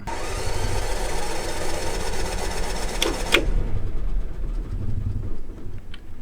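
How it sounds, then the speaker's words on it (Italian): A Yamaha 2500G LPG generator built into a camper, running with a steady droning hum, then a couple of brief clicks or knocks before the tone drops to a lower, quieter idle, with no voices. "Il generatore è un Yamaha 2500G, ossia un generatore integrato che pesca dal bombolone GPL, cioè va a GPL"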